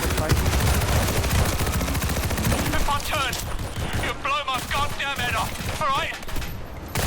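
Dense, rapid gunfire from the zombie shooter World War Z rattles continuously and loudly through the whole stretch, with voices talking over the game action.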